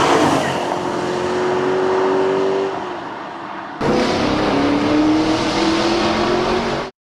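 BMW M3 with a V8 engine and manual gearbox pulls hard under load, its engine note rising steadily, then dropping briefly at a gear change before climbing again, loud and close throughout.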